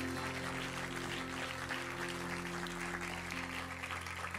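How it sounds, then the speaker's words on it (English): Church congregation clapping hands together during a worship service, a steady, dense wash of applause filling the room over a low sustained hum of instruments or organ. "Clap your hands if you believe that."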